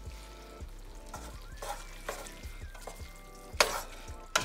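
Chicken lo mein noodles are stirred and fried in a hot pan. A steady sizzle runs under repeated scraping strokes of the utensil, ending with a sharp metallic clatter near the finish.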